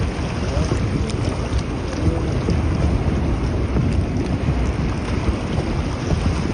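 Heavy rain and gusting wind of a storm on a survival expedition, a dense, continuous roar of rainfall and wind buffeting the microphone, loud and close throughout without pause.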